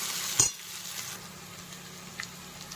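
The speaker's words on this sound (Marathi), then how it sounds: "कांदा बऱ्यापैकी आता गुलाबी झालेला आहे. अजून आपण त्याला 2 मिनिट परतू देणार आहोत." Chopped onion sautés in a pan for Marathi wheat vada, a soft steady sizzle heard up close, with a quick stir and a light clink of a utensil early on.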